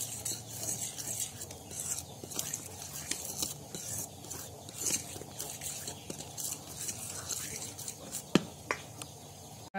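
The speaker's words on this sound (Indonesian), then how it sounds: "Kita aduk-aduk terus." Flour batter with baking powder is stirred in a bowl, soft repeated scraping and clinking strokes, quiet and close, with one sharp knock near the end.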